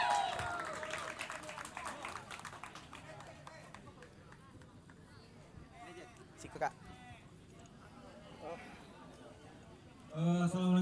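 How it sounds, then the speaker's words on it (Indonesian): Applause for the organizing committee chairman at the closing ceremony of a soccer entertainment championship, a steady crowd clapping texture that swells again near the end, with voices and other crowd noise mixed through it. "Kita berikan tepuk tangan yang paling meriah kepada Bang M."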